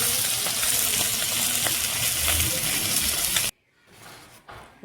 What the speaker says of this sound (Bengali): মাছটা একটু লাল লাল করে ভেজে নিব।